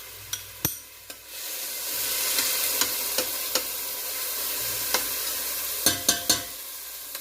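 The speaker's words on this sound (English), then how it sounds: "Garlic and onions are in." Garlic and onions saute in a pan over medium heat for chicken cacciatore, a soft continuous sizzle punctuated by sharp utensil clicks and taps against the pan, heard close and without talk.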